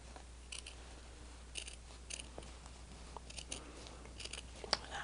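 Scissors trimming colored fabric pieces of a stained glass quilt top above a backing fabric, a series of faint, close snipping clicks at an irregular pace against quiet background hum.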